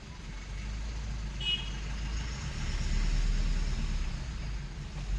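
A wedding band's vehicle pulls forward in a cramped parking area, its engine a steady low rumble that holds close and even throughout with no voices.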